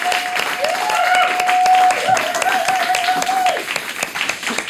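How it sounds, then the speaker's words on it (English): Studio audience applause on a talk show, a brisk burst of many hands clapping with a sustained tone ringing underneath, tapering slightly at the close. "Let's give him a round of applause"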